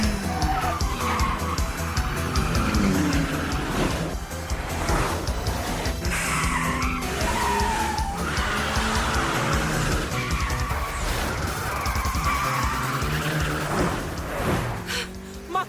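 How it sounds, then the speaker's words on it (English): A car drifts through a corner in an Initial D race, its tires squealing loudly over a roaring, revving engine, with music and other racing sounds mixed in throughout. "You can kick it out and drift right on through this corner."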